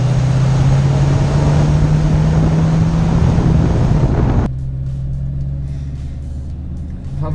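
Mercury Cougar XR7 fitted with louder aftermarket mufflers, its engine giving a loud, steady exhaust rumble with a low droning note that drops to a softer idle partway through, with wind buffeting the microphone.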